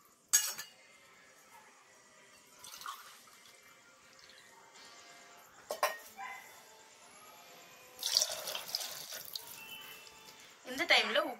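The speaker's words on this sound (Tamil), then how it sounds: "இப்போ நான் 2 பங்கு தண்ணி ஊற்றிக்கிறேன்." Water pours into a pressure cooker in a kitchen for wheat rava upma, in several splashing bursts with clinks of utensils, running water audible between them.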